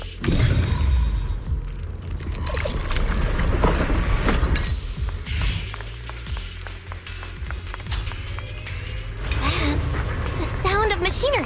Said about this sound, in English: That's the sound of machinery. Looks like it's working.